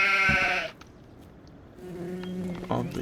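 A sheep bleats loudly and close at a farm, a short wavering cry, followed by quieter rustling and a second softer bleat in a barn setting.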